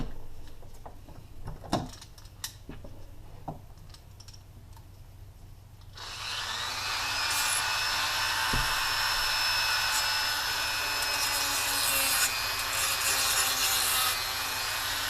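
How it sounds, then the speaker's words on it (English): A Dremel rotary tool cuts brass switch parts after some quieter handling clicks. The tool then starts up and gives a sustained, high-pitched grinding whine for the rest of the clip, close and loud. "we'll take the Dremel, put on the safety goggles"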